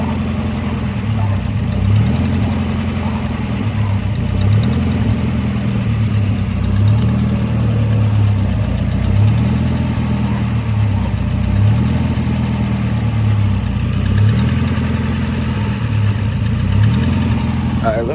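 A Hemi 5.7 car engine idling with a suspected fault, a steady low rumble with a faint regular throb, loud and close, holding level throughout without revving.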